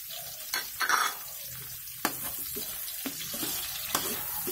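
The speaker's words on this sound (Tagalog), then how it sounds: "Kalulutuin lang natin yung ating sibuyas at bawang bago natin ilagay yung ating karne" Chopped onion and garlic sauté in a pan before pork goes in, with a steady low sizzle and a few scraping stirs and utensil clicks close by.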